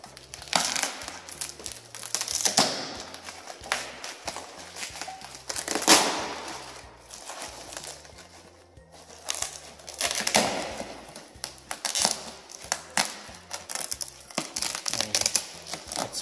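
Close, dense crinkling and crunching of a tight thin plastic bag wrapping an outdoor gas heater, in irregular bursts, loud and busy with sharp crackles, no voices.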